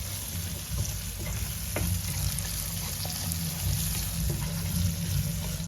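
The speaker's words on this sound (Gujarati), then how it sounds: "આપણી ડુંગળી સતળાઈ ગઈ છે" Chopped onion fries in a pan for Punjabi-style kadhi pakoda, a steady close sizzle with faint stirring scrapes and a few light clicks throughout, without any voices.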